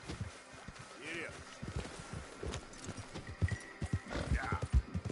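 A horse in the video game Red Dead Redemption 2 clip-clops along with rhythmic hoofbeats and a short whinny, while a person talks over it.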